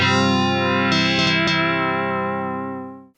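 Patch on a Korg Volca FM synth: one rich, brassy sustained chord swelling and holding with a shimmering, chorused, reverberant sheen, a few faint clicks midway, fading out at the end, no voices.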